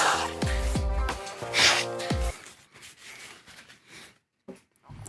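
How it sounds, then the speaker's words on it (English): A person blows their nose into a tissue in a few forceful close bursts, followed by quieter rustling and soft breaths. "Blowing my nose, ASMR."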